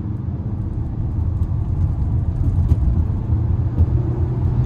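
2022 Mazda CX-5 Turbo with all-wheel drive cruising on a busy highway, a steady low cabin rumble of engine and road noise with a subtle slow upshift in the middle.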